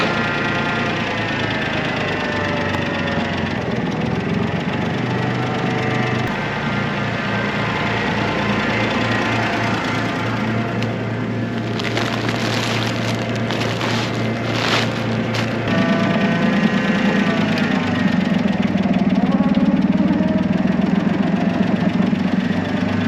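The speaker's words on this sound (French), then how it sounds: "Allez, on déplace le petit Fendt." A small Fendt tractor's engine runs steadily while the tractor is being moved, a continuous close diesel chug that grows slightly louder and heavier near the end.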